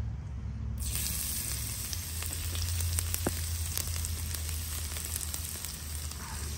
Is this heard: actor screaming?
no